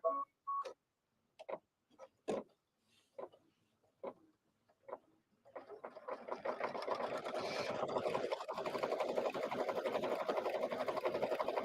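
A sewing machine stitches a garden flag, first a few short separate ticks and clicks, then a steady fast mechanical whirring of stitching that runs nearby to the end, with no talk.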